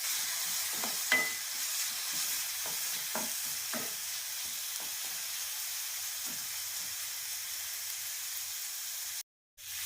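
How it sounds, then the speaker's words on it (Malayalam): Chopped garlic hits a hot pan for a sprouted moong curry, giving a steady frying sizzle and hiss throughout, with a few soft stirring clinks near the start and a brief dropout at the very end. "അതിലേക്ക് വെളുത്തുള്ളി ചെറുതായിട്ട് കട്ട് ചെയ്ത് കൊടുക്കുന്നു"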